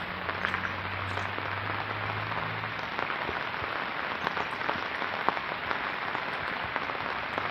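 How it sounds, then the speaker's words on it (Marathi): Steady heavy rain during a monsoon spell near a river, a continuous dense hiss of drops without breaks and no voices. "पाऊस चालूच आहे"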